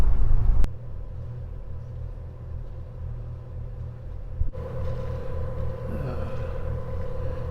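A sailboat motors under engine power across a calm bay with little wind, its inboard engine giving a low, steady rumble throughout, with a brief knock near the start and a slight rise in tone later.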